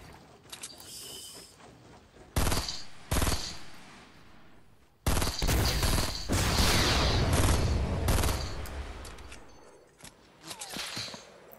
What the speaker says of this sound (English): Okay, they're sniping.